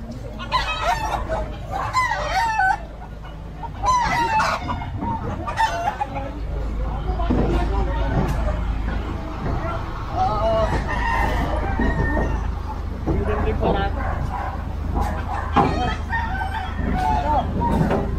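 Caged chickens and roosters crowing and clucking on a sidewalk, several birds calling repeatedly and loudly, with background voices and street noise throughout.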